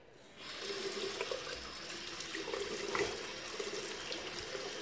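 A bathroom tap runs steadily after a brief quiet start, water splashing into a sink as a face care product is rinsed off, close and continuous with no talking.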